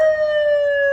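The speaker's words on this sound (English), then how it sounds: "I guess you'd call it American fire truck siren, right?" A wailing American-style fire truck siren effect from a CJB 200W PA system, a loud, steady electronic tone holding a single pitch with bright harmonics throughout, alone with no voices.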